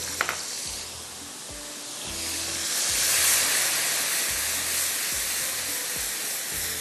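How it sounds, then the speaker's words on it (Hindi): Yogurt masala with red chili, salt, cumin, curry leaves and garlic being stirred and fried in a pan for mutton do piyaza. A hissing sizzle swells and then holds steady, with spoon scrapes and no talk. "इस तरह से चम्मच चलाते रहेगा, दही भी फेंटा जाएगा और ये भुना भी जाएगा"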